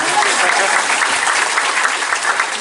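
Steady, dense applause from an audience at a school graduation send-off event, loud and continuous throughout without a break.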